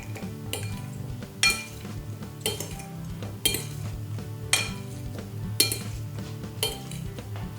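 Potato, apple and celery salad tossed in a bowl, with repeated clinks and scrapes of utensils against the dish in an irregular rhythm, close and moderately loud, no voices.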